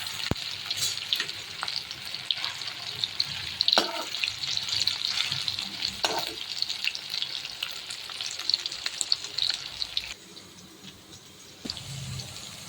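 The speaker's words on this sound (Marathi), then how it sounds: "इथे आपले कडकडीत तेल गरम झालेले आहे. त्यामध्ये आपल्याला या अळूच्या वड्या घालायच्या आहेत." Colocasia leaf vadis deep-frying in very hot oil, a steady dense crackling sizzle close by with occasional pops and light clinks, continuing without talk until it eases slightly near the end.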